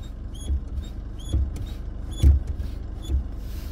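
The brake pedal of a 2020 Chevrolet S10 diesel pickup squeaks four times in a slow, regular rhythm, each press giving a short, high, close-up creak over a quiet background.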